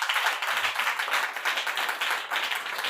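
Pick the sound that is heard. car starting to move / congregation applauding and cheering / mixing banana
congregation applauding and cheering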